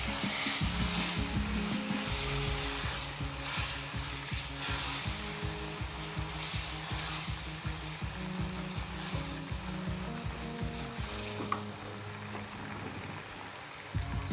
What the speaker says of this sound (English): Add coconut milk to this. Cook it for 2 to 3 minutes again.